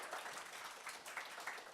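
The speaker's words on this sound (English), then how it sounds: "Round of applause." Applause from an audience at a talk on the cast of the 2001 Harry Potter and the Philosopher's Stone film, a steady, dense wash of many hands clapping that fills the whole moment without voices.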